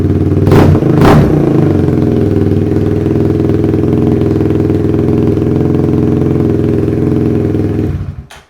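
Kawasaki Z125 with a Yoshimura exhaust idling loudly in an echoey shop, two quick throttle blips near the start, then a steady deep rumble that cuts off at the end.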